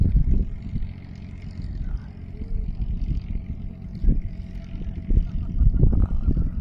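A returning purse-seine fishing boat, TRF1379, chugs in with a steady low engine rumble that swells and eases, close by, with faint voices in the background.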